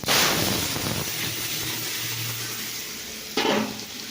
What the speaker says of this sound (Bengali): তাই তেল দিলাম, 5 ফোড়ন দিলাম, শুকনো লঙ্কা দেবো।